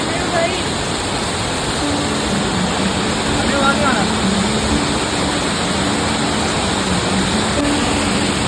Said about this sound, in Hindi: वाटरफॉल का माहौल इंतहाई तेज़ है